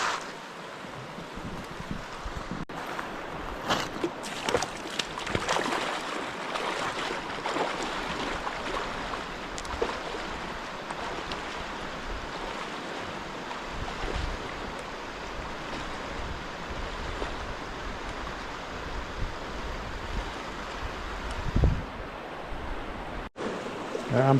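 Wild creek in winter in Pisgah National Forest, North Carolina, rushing steadily over rocks while someone wades across, a continuous close, loud broadband wash with splashy bursts and a few sharper knocks near the end.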